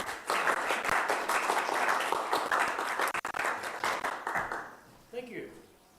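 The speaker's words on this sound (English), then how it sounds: "Please give a round of applause to Vern Bradley" Audience applause for a presenter at a Darwin Day gathering, a dense burst of clapping that fills the room for about four seconds before thinning out and fading, with a few scattered claps at the end.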